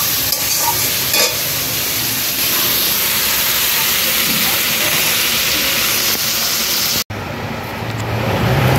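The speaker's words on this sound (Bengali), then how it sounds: "আর এই যে মাছ ভাজা" Fish frying in a pan in an indoor village kitchen on a rainy day, giving a loud continuous hiss and crackle that breaks off sharply near the end, then returns more faintly.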